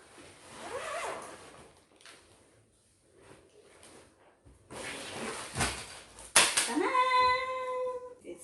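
The zipper on a carrying bag for a THECOSKY 18-inch ring light rasps open in several short pulls between pauses, close by and fairly soft, with a brighter scrape and rattle near the end.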